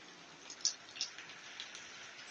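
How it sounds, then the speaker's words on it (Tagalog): Steady light rain patters on a rainy afternoon, a soft continuous hiss with a few distinct droplet taps standing out near the start. "Maulang hapon."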